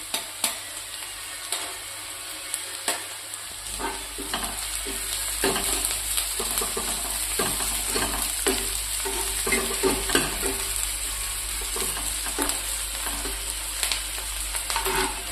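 Curry leaves and onions fry in a pan, producing a constant close sizzle broken by repeated scraping and clacking strokes as they are stirred.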